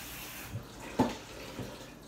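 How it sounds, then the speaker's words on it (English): Cold tap water is poured over cooked noodles in a pot, a soft continuous trickle with a few quiet splashes and one clearer slosh in the middle. "basically throwing cold water over my noodles"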